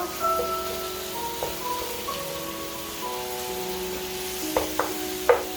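Half a large onion and a tablespoon of minced garlic sizzle steadily in a pan, a soft constant frying hiss broken by a few brief scrapes of stirring near the end, with no talking.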